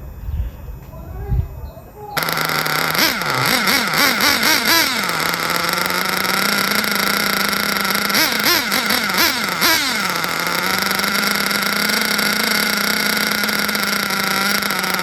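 A fuel-powered Hobao Hyper VT GT RC car engine on the bench starts up, settles into a loud steady buzzing idle and is blipped in short bursts of rising and falling revs, with sustained whine throughout.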